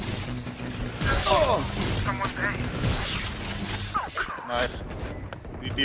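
Gunfire in a video game, bursts of shots mixed with crashes and mechanical clatter, dense and continuous under excited talking.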